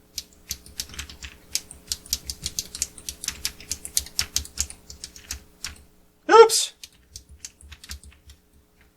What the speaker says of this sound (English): I'm pressing keys.